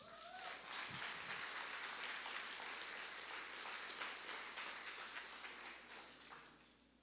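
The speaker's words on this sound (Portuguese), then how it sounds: "Aplauda o Senhor, irmãos." Church congregation applauding, a quiet, continuous patter of many hands that stays steady and then fades toward the end.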